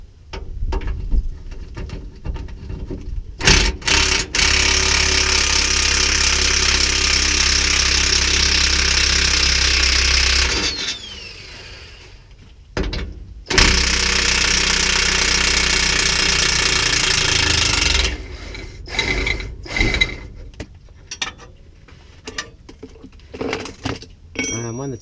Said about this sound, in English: Be careful if you're using a rattle gun, because you'll generate a bit of heat.